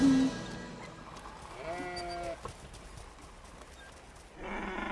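A sheep bleats in an animated cartoon: one wavering, moderately loud bleat in the middle, with softer animal and background sounds before and after.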